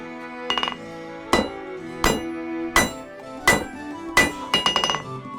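Sharp metallic hammer strikes ring out one at a time at a steady pace while forging a meteor hammer, each leaving a brief ringing tail, ending with a quick cluster of blows.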